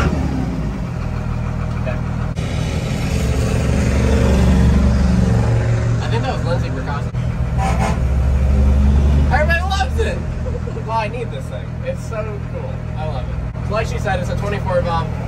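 A Cummins 24-valve diesel in a stock second-gen rat-rod dually with a 5-speed idles with a steady low rumble and occasional revs, while people talk nearby over the engine.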